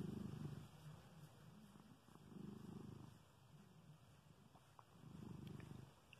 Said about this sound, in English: He just has the most soothing purr in the whole world, and so loud.